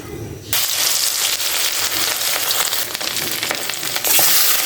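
Fish rubbed with turmeric, chilli and salt frying in hot oil in a wok, breaking into a loud, sudden sizzle after a brief quieter start, then crackling steadily close up with small spits and pops.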